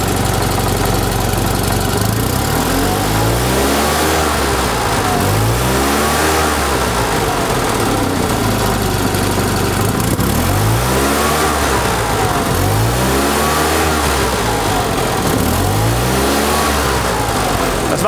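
A 21-horsepower 1974 Fiat 500 classic car engine revs up and down repeatedly, loud and close, its rough mid-pitched note rising and falling in a steady cycle of surges.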